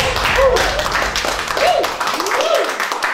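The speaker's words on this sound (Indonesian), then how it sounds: "tepuk tangan buat Bang Ridwan." An audience at an Indonesian comedy show gives a short burst of steady clapping and applause, with a voice speaking over it.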